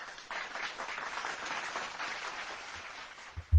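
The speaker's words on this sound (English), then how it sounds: "can we get a round of applause for this subject?" A short round of applause at an insurance adjuster podcast plays as a soft, steady wash of many clapping hands for a few seconds, fading slightly before a couple of low thumps at the end.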